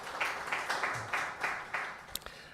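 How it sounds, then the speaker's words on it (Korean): A church congregation applauds to celebrate members' birthdays during a service, giving faint, soft clapping in short rhythmic bursts, with a couple of sharper knocks near the end. "박수하겠습니다."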